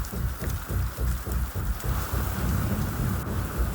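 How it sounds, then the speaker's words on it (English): A thunderstorm with rain and lightning: steady heavy rain drums on surfaces while rumbling thunder pulses underneath, loud and continuous, with no voices. "There's freaking crazy lightning going on right now."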